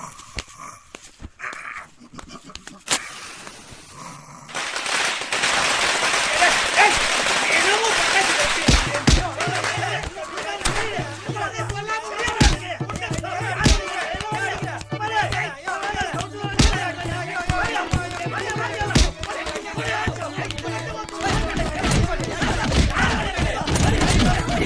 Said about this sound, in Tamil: போய் பட்டாசு வைக்கலாம்.